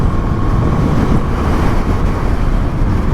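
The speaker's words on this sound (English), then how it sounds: "it's definitely windy out now" Steady broadband wind rush buffets the microphone throughout, loud and continuous with low rumble, as on a motorcycle ride aboard a 2024 Yamaha MT-07 on a windy day.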